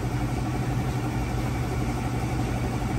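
Newly replaced refrigeration compressor motor running, a steady low mechanical hum with a constant drone, close and unbroken throughout.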